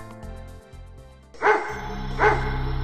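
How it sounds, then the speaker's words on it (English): Two loud dog barks ring out about a second apart over background music. "it heard the sound of guns and barking dogs"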